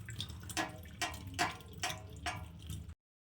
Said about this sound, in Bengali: এবার এটা জলটা আমি খুব ভালো করে ঝরিয়ে নেব।